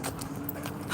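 An Australian Shepherd or Blue Heeler pants close by in quick, breathy bursts, with a faint whimpering edge.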